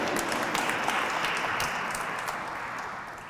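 Dense applause from an audience at a Hispanic Heritage Month gala, a steady wash of many hands clapping that fades slightly toward the end.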